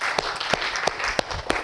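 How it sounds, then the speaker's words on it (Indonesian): Students in a school classroom clap in a quick, even rhythm, about five sharp claps in under two seconds over a faint background hiss. "Tepuk tangan untuk MIPA"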